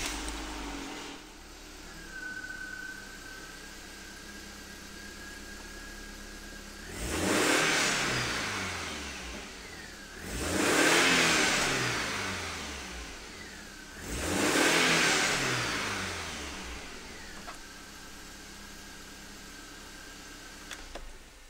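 A BMW engine idles at a steady hum, then is revved three times to about 4500 rpm, each rise and fall clearly separated by a return to idle, heard close and without talk.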